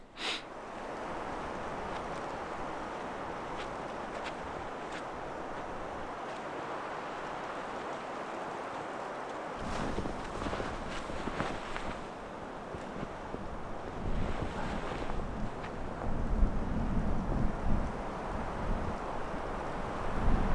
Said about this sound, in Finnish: Kyllä on pureva tuuli täällä